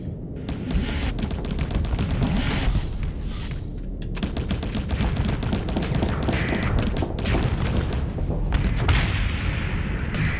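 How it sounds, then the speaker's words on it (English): Heavy blaster set to auto-fire in the space combat game Starsector, a dense continuous stream of rapid energy shots and booming impacts, loud and sustained throughout. "So the heavy blaster, let's set that to auto fire"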